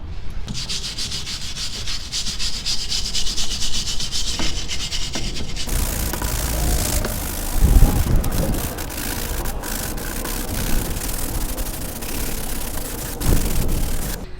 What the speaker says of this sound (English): take a wired brush and just go over the whole drum brake